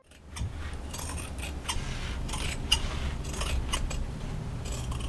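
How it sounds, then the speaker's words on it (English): Scissors snip through denim at the inner leg seam of a pair of jeans, a run of crisp, close cutting strokes repeated at an uneven rhythm. "I started by cutting open the pants at the inner leg seam."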